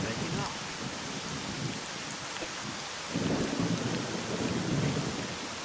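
Steady rain pours throughout in the S.T.A.L.K.E.R. Clear Sky game world, with a deep thunder rumble swelling near the midpoint and rolling on under the downpour.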